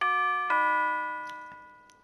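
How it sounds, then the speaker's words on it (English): A doorbell chimes in the visual novel game Nekopara Vol. 1, two clear ding-dong tones that ring out and slowly fade, followed by a couple of faint clicks. "Doorbell."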